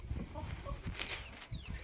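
A broody hen caged in a shed gives soft, close clucks and murmurs in short bursts, with faint rustling and shuffling around her.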